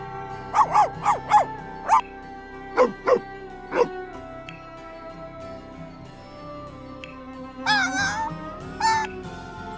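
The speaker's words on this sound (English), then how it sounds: "that was all of the sound effects that dogs make, like as far as barking" Dog barking effects in the video game The Sims 4 come as a series of short, sharp, separate barks and yips, followed later by a whiny cluster of yelps over a low game background.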